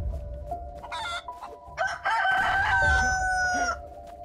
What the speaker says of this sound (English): I think this chicken might be over by this house.